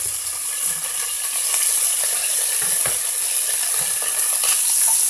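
Garlic and anchovy frying in a pan for homemade tomato sauce, a steady bright sizzle with soft crackles and an occasional clink of a utensil stirring, close and continuous.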